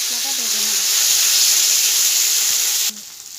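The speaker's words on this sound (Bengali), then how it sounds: "মশলাটা ভেজে নেব।" Ground spice paste of cumin, coriander, ginger and dried chilli with panch phoron sizzles steadily in hot oil in a pan, a loud continuous frying hiss that drops away abruptly near the end.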